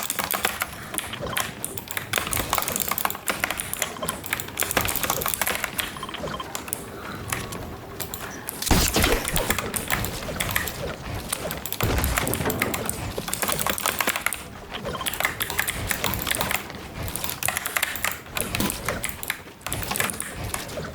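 Rapid computer keyboard typing during Fortnite building edits, dense bursts of loud, close clicking and clattering keys that run almost without pause, with no voices.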